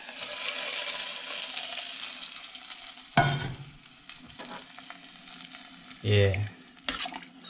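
Onion and garlic frying in a pan, a steady hiss of sizzling that fades into quieter crackle, broken by a few clanks and scrapes of stirring, with a brief spoken word.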